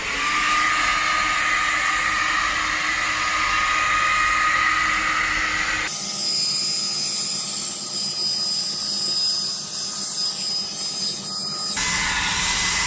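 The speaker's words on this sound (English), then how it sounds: "Why I brought two hair dryers because so that I can rotate between the dryers after every 5 minutes so that they will not overheat" Two hair dryers blow continuously over wet carpet aboard a yacht, a loud, even whooshing whine that changes tone abruptly midway as one dryer swaps for the other, then switches back near the end.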